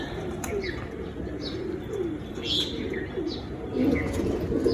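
Pet pigeons coo softly in a loft, low burbling calls repeating over a steady background hum, with a few higher chirps from other birds nearby.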